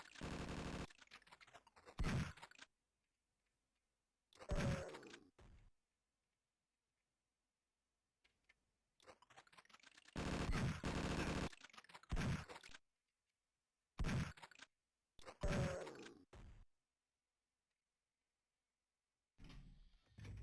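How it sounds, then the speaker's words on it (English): Bursts of rapid machine gun fire from the Amiga video game Zeal Wheel Dread, loud clattering volleys broken by stretches of silence, with no talking. "another machine gun dude"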